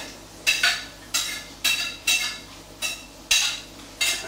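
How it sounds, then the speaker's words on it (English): A spoon stirs chestnuts and garlic into a chorizo and lentil stew, with about eight regular scraping strokes against the pot, close and fairly quiet, each followed by a soft sizzle. "Put those in and then just gently mix them all in"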